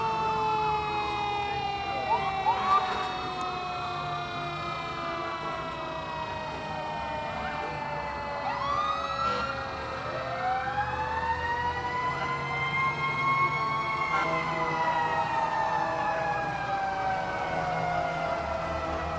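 Vintage fire engine 5481 sounds its siren as it closes out a July 4th parade in Willits, long wailing sweeps rising and falling over several overlapping siren tones, loud and sustained, with faint crowd noise beneath.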